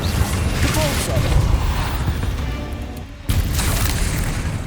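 A Repulsor spell blast in Hogwarts Legacy lands as a loud, booming burst over a rumbling combat backdrop, with a brief dip before another heavy impact swells back in.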